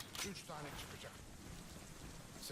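Steady rain falling in the video game Crysis 3, a dense even hiss running throughout under faint background voice.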